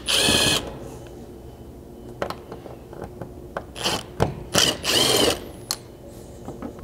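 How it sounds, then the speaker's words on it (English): Impact driver spinning out T25 screws from a 3rd Gen 4Runner roof rack, several short loud bursts of whirring and rattling separated by quieter gaps, close up. "using a T25 socket and a ratchet or an impact in this case, go ahead and remove all 5 of those screws."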